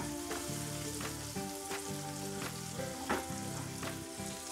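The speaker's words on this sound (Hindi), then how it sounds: "और इसे भी हम मीडियम फ्लेम पे कुछ सेकंड के लिए फ्राई कर लेंगे।" Mixed vegetables fry over a medium flame for a chicken chilli gravy, a loud, continuous sizzle broken by regular scraping stirs of the pan.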